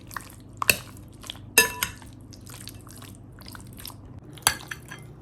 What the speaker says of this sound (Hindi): अच्छी तरह से हमने इसको मिक्स कर लेना है।